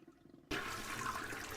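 Toilet flushing in the point-and-click game Deponia, a sudden loud rush of water that bursts in after a quiet moment and keeps pouring steadily, with no talk over it.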